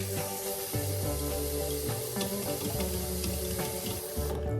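Tap water pours steadily into a cooking pot for soup, a close, continuous rushing fill that stays even for several seconds and cuts off right at the end.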